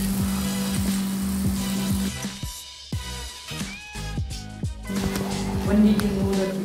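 Kebabs cook over low heat in a Nagaland kitchen, a steady close frying sizzle with scattered crackles and pops, briefly thinning in the middle before swelling again, with a faint low hum underneath.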